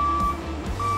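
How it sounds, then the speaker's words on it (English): A Cat 304 or 305 CR mini excavator's reversing alarm gives steady, evenly spaced electronic beeps over a low engine hum. "Travel alarms or reversing alarms are another standard feature on all CAT equipment."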